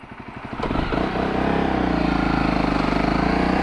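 A Honda CRF250L dual-sport motorcycle's single-cylinder engine starts up and settles into a loud, steady, rhythmic idle close by, with no talking.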